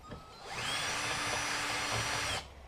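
A step drill bit deburring a freshly drilled hole in metal under very light pressure, a sustained whirring spin of about two seconds with a soft start and abrupt stop, close and alone.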